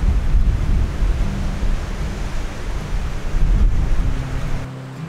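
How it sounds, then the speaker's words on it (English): Strong gusty wind roars across open water on a river trip by canoe as a weather system moves in, buffeting the microphone with broadband rumble that swells and eases, with surf-like wave wash underneath and no voices. "A system is definitely coming through. It's starting to get really gusty and it's just blowing me all over the place."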